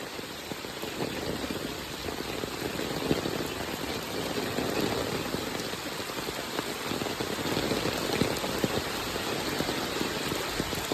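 Heavy monsoon downpour in Konkan, a dense steady hiss of rain drumming on surfaces close by, unbroken for the whole stretch with no voices.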